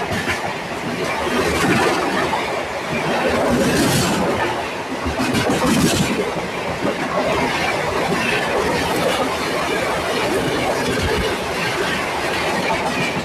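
The Falaknuma Express rumbles past close by, its wheels clattering in a steady rhythm with rising and falling surges, loud throughout.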